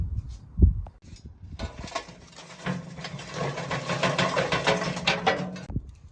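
A ThermoWorks Billows blower fan mounted on an offset smoker, its small motor spinning up after a few knocks into a steady, close whir with a low hum, then cutting off.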